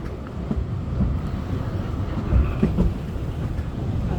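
Festiniog Railway narrow-gauge train running through Snowdonia, a steady low rumble of wheels and carriage with faint rail clatter and a bit of wind buffeting, close and continuous throughout.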